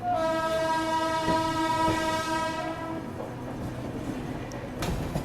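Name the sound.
passing train heard from aboard Indore Daund Express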